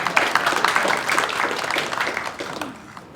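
An audience at a Women's Day speech event claps in a dense burst of applause that holds steady for a few seconds, then thins out and fades.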